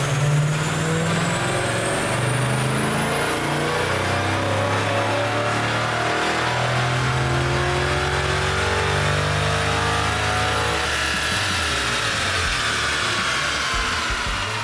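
A Dodge Challenger R/T Scat Pack with its 6.4-liter Hemi V8 revs loud and close, engine note sweeping up and down in repeated pulls with a constant roar and whine.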